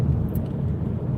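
Car driving on a wet road in the rain at dusk from Stalybridge to Wigan, UK: a brief, steady low engine and tyre rumble heard from inside, with no talk.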